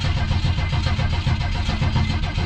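A 1971 Ford Maverick engine cranks on the starter in a steady, loud, continuous churn as it tries to catch, heard up close with no voices.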